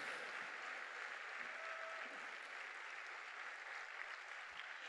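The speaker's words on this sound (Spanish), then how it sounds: "dele fuerte ese aplauso al Cristo de la gloria" A church congregation at a Sunday service applauds loudly and continuously, a dense even wash of clapping that holds steady throughout without pause.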